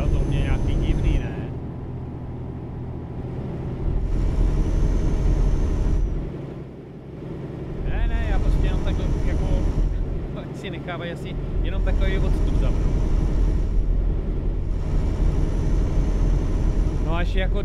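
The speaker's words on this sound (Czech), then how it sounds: "hele, tady jsou nějaký letadla" Airplanes drone overhead in Euro Truck Simulator 2, a steady broad roar that dips briefly twice and then returns, running under a man chatting casually in Czech.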